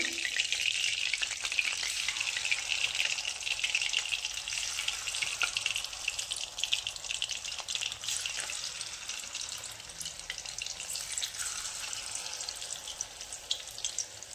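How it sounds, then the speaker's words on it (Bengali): Steady, dense sizzling of food frying in hot oil, a continuous bright crackle at close range with no voices. "তো আমার হয়ে গেছে ভাজা, আমি তুলে নিলাম।"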